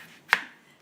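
A single sharp knife chop through a firm pumpkin, close and crisp, with a short fading tail and near-silence around it.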